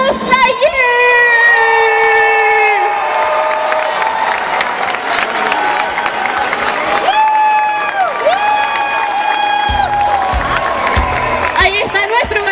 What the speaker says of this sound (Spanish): Un aplauso para Buzz Lightyear.